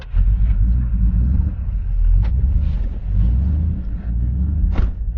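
Car engine under steady throttle, a low rumbling drone held throughout with slight swells in revs, recorded outdoors with some wind buffeting and brief noises over it.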